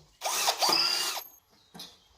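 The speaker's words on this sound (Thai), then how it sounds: "ผมก็ทำการเจาะเลย ก็ได้เป็นรูแบบนี้ครับผม" A power drill bores holes into scrap steel pieces while a folding chair is built, heard in two close, loud whirring bursts with a short gap, then a brief fainter spin-up.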